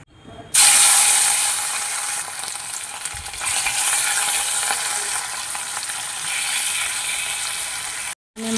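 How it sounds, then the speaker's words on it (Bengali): Fish fries in hot oil in a wok. A loud, dense sizzle bursts in just after the start and hisses steadily for about eight seconds, with a brief stirring shift midway, before cutting off abruptly. "আমি মাছটি ভাজা হওয়ার জন্য কিছুক্ষণের জন্য ছেড়ে দেব।"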